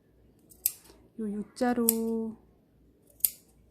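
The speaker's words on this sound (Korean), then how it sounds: "요 U자로 재단이 되어 있는 부분에 가위집을 넣어 주실 거예요" Sharp scissors snip notches into the seam allowance along the U-shaped curve of a sewn frill bag handle, giving a few brief crisp cuts with a voice talking between them.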